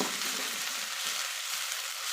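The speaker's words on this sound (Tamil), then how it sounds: "பாருங்க, வெங்காயம் நல்லா வணங்கிடுச்சு." Softened onions sautéing in a pan with mint, green chili and garlic, an even, continuous close sizzle with faint low stirring thumps beneath it and no speech.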